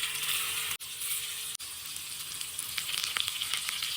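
Sardines sizzle in oil in a clay pot on the stove, a dense, steady crackle and spatter heard up close, briefly dropping out twice and growing more popping toward the end.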